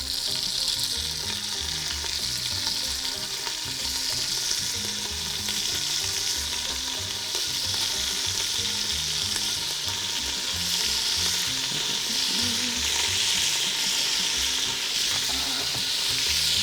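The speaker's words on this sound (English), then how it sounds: "get in between each of the pieces and brown all of them thoroughly" Beef pieces sizzle steadily in a hot pan as they brown for boeuf bourguignon. The frying is loud and continuous, and occasional stirring scrapes can be heard throughout with no talking.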